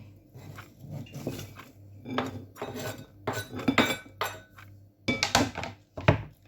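Chopped cabbage for a salad tumbles into a bowl in several bursts of rustling, clattering pieces, with light knocks and clinks against the dish between short pauses.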